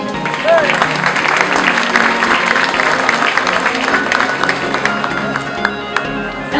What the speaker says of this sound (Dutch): Graag uw applaus voor Melissa Carracci.